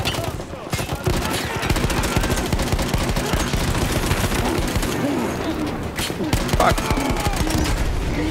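Dense automatic gunfire and bursts of shots from a Battlefield 1 battle, loud and continuous throughout, with someone briefly speaking over the shooting.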